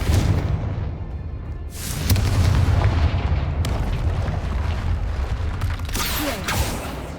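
Confringo explosion spell in the video game Hogwarts Legacy, a series of loud, heavy booms, several blasts bursting in turn with long rumbling tails, close and filling the scene.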